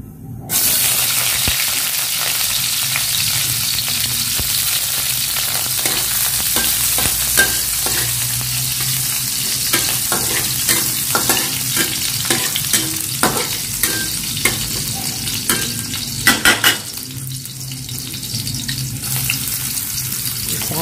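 Onion and garlic frying in a pan for pancit, with steady broadband sizzling and repeated scraping stir strokes throughout, close and fairly loud, plus a brief burst of running tap water near the end.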